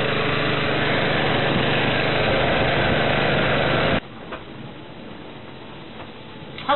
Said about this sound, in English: Dive pump running, refilling our gear.